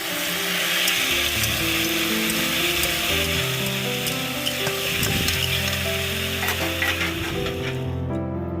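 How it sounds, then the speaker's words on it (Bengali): Spices are cooked down in a pan, giving a steady, loud sizzle with intermittent scraping stir strokes and a faint humming tone beneath, with no voices. "এই যে এখানে মশলাটা কষিয়ে নিচ্ছি"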